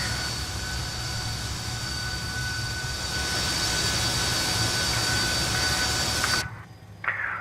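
Two running jet engines of a Fokker F28 airliner in Microsoft Flight Simulator, a steady loud whine and roar with a high tone held throughout, cutting out abruptly near the end.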